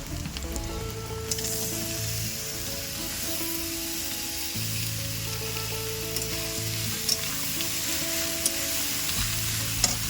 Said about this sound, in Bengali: সামান্য একটু ভাজা হোক তারপরে লাউ দেবো